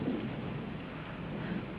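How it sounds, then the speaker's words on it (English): A low, distant rumble of thunder rolls through a stormy night, steady and broadband with faint rain-like hiss, no voices over it. "That's only thunder."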